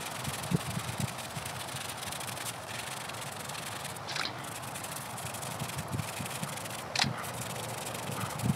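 A brush scrubs a soapy marble headstone in steady, rough rubbing strokes, close and continuous, with a few brief sharper scrapes along the edges.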